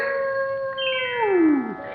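In a 1951 song, a loud dog-like howl or bark holds a steady pitch, then slides sharply downward before fading, heard alone.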